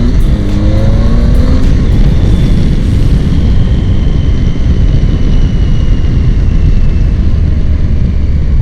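A Triumph Tiger 800 XCA motorcycle pulls away on a road, its engine note rising briefly before giving way to a loud, steady roar of engine and wind rush.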